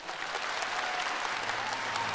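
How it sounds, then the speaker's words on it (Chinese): A gala audience applauds veteran television artists with sustained, dense clapping that fills the hall evenly throughout, with no speech over it. "我们再次把充满敬意的掌声送给前辈艺术家们"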